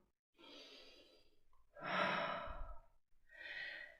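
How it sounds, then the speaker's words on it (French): Conscious breathing during a guided calming exercise: three soft, close breaths, the middle one a longer, fuller sigh-like exhale, with brief silences between. "Donc commence à respirer en conscience. Voilà, et je respire avec toi."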